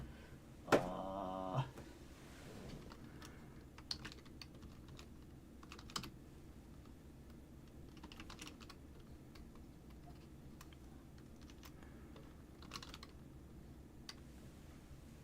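Faint, scattered taps on a computer keyboard, with a quick cluster of louder clicks near the start and then sparse keystrokes in a quiet room.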